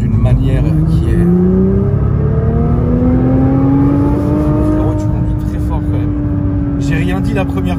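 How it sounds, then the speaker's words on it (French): A Nissan GT-R's engine and transmission drone loudly from inside the car while driving, rising in pitch through the gears with a steady whir underneath. Voices talk over the sound in places. "sur la GTR, c'est vraiment qu'on entend la transmission, on entend tout, absolument tout"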